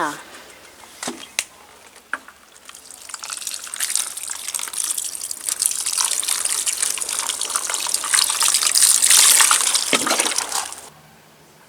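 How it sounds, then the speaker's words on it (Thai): Chili plants in plastic bottles are watered thoroughly, giving a steady, fairly close rush of pouring water that swells toward the end and then stops abruptly, with a few small splashes at the start. "เดี๋ยวก็รดน้ำนะคะ รดน้ำให้ชุ่มเลยจ้า"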